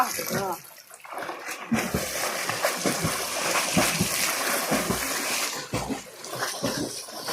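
Villagers jump into a village well in Papparapatti, setting off repeated loud water splashes and churning sloshes while voices shout and talk over the commotion.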